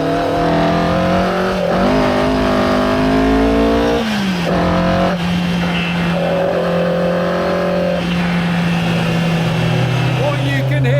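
Ford Escort Mk1 continuation racer with a 1.8 twin cam engine driving hard, engine note climbing and dropping through gear changes, loud and close from inside the car, with speech in places over it.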